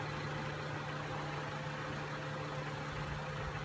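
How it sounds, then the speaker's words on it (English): A 2000 Honda Civic LX engine idles steadily nearby, a continuous low hum with a faint rapid ticking texture and no change in pitch. "So it's not the quietest of engines, as you can see, but it's still a nice engine."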